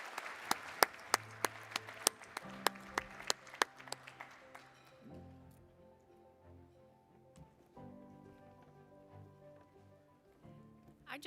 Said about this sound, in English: Give everybody a round of applause again